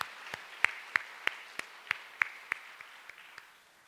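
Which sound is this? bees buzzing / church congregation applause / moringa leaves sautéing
church congregation applause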